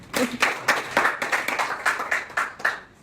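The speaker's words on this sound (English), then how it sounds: "So if you want to be a champion, clap for yourself." A small group claps for a few seconds, each clap sharp and distinct in a quick, slightly uneven rhythm, with no voices.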